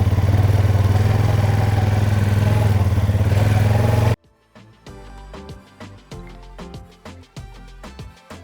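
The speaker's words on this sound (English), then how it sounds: "I'm going to reverse the mower up to it" A riding lawn mower engine runs loud and steady, close by, for about four seconds, then cuts off abruptly into a stretch of irregular clattering and knocking.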